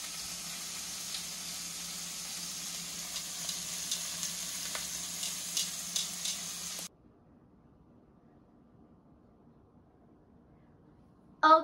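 Beaver meat frying in a pan on a stove burner, a steady close sizzle for about seven seconds before it cuts to near silence, followed by a brief sound at the very end.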